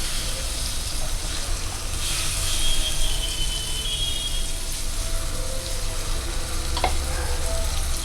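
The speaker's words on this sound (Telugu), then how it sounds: "ఇప్పుడు దీన్ని మళ్ళీ ఒక ఐదు నిమిషాలు ఇలాగా వేపుకోవాలండి" Tomato paste sizzles and fries steadily in a pan while fish curry is being made, with a continuous close crackle and a few faint clinks or scrapes.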